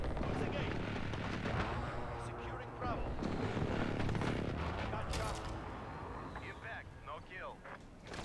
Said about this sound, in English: Precision airstrike, huh?